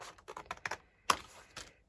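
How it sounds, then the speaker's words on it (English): Several short crisp snips of scissors cutting paper, close by, in an irregular sequence with a louder cut near the middle. "Now I'm just going to use my scissors."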